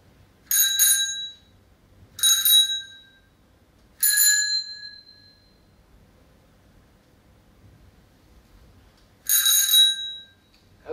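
Four loud, bright bell rings from a bicycle-style bell used in a classroom pharmacology simulation, three spaced about two seconds apart and a fourth after a long pause, each ringing out briefly over a quiet room.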